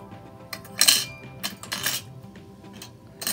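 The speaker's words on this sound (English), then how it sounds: "And then in this one, I'm just gonna add silverware." Toy silverware from an American Girl kitchen set, two knives, two forks and two spoons, being dropped into a toy kitchen: several bright metallic clinks and rattles in separate bursts, close and fairly loud, with no talking.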